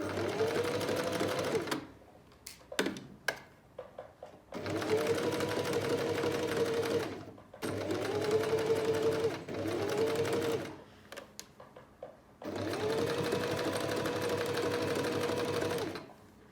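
An Alfa Practik 9 sewing machine stitches fabric in a straight stitch, running in four steady bursts of whirring with short pauses between them. It is close and clear, with only small handling noises in the gaps.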